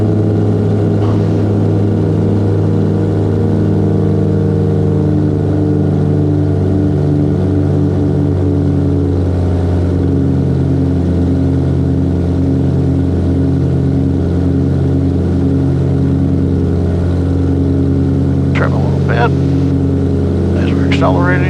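The piston propeller engines of the small presidential Aero Commander, Ike's Bird, drone loud and steady as it climbs out after takeoff, with a pilot talking over the engine hum.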